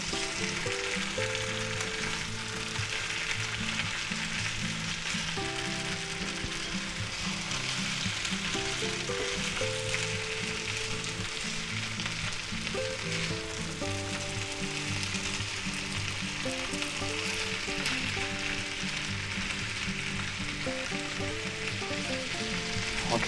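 Potatoes, onions and hardwood smoked sausage frying in a pan, with a steady, close sizzle and crackle of hot oil running throughout and faint scraping from stirring.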